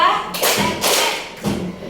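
Children in a classroom game clap in a slow pattern, three loud, broad claps or thumps spaced evenly and heard up close, with talk mixed in.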